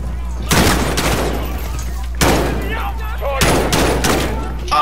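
Gunshots in the video game Call of Duty Modern Warfare on PS4, three loud close blasts spaced roughly two seconds apart, each trailing off in a rumbling echo.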